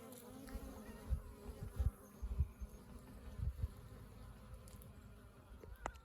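Soft bee buzzing around flowering holy basil in an Arizona garden drifts in and out at low level, with a few louder close passes against a quiet outdoor background.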